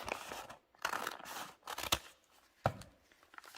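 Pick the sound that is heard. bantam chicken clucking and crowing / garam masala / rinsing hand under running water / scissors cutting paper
scissors cutting paper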